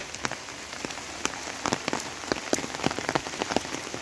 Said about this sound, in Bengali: দেখেন কি পরিমাণ বৃষ্টি হচ্ছে।